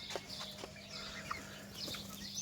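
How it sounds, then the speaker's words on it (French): Soft, low hen clucks come in short scattered bursts over a steady electrical hum, faint and somewhat distant. "ça, c'était une poule qui arrivait sur le téléphone"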